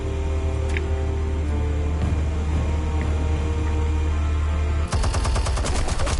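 Rapid automatic gunfire in Batman: The Telltale Series bursts out loud over a constant droning game score, a fast close rattle of shots in the final second and a half.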